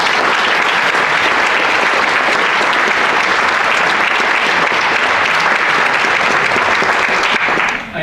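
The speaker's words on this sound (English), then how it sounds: "please give this group a round of applause for their efforts" Sustained, loud audience applause at a school athletic hall of fame induction ceremony, steady dense clapping filling the hall for about eight seconds before starting to fade.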